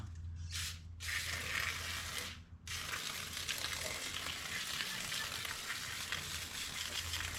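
Loud aerosol brake cleaner spraying hisses close by in a couple of short bursts, then one long continuous spray, while working on a 1970 Ford F250 dually.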